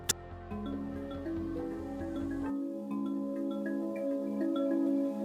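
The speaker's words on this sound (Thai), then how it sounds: "นี่คือเสียงที่เกิดขึ้นจริง และเป็นเสียงแรกที่จักรวาลเคยสร้างขึ้น" Sonified sound of the early universe: low, droning synthetic tones that slowly shift and layer, with a rumbling bed that drops away midway, leaving eerie sustained pitches.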